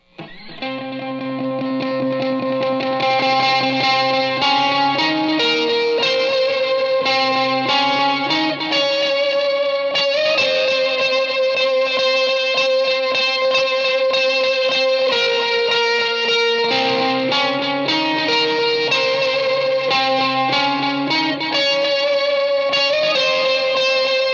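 Sustained electric guitar through an Electro-Harmonix Pitch Fork set to octaves above and below, with overdrive, reverb and slight DD20 delay, playing a slow melodic line with thick layered tones, loud and continuous.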